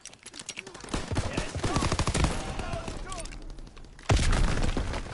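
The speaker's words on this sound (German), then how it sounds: "Liege unter Beschuss." Dense gunfire and explosions from a Call of Duty WWII online match, with rapid bursts and booms up close and a heavy blast near the end, while voices talk over the battle.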